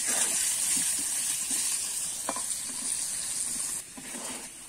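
Potatoes frying in a pan with turmeric, a steady close sizzle with occasional stirring clicks and scrapes, no talk.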